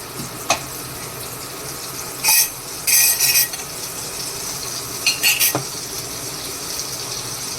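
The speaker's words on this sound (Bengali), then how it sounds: "এবার আমি গ্রেভির মশলাটা কষাবো বাটার দিলাম" Masala for chicken butter masala being fried in butter in a pan: a steady low sizzle runs throughout, broken by a few bursts of spoon or utensil clatter against the pan.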